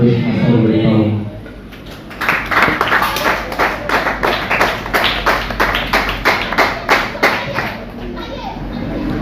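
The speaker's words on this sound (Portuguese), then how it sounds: "glorifica a Deus com a salva de palmas." A church congregation at a Portuguese-language worship service breaks into loud, rhythmic hand clapping after a short stretch of talk, steady claps continuing close and strong to the end.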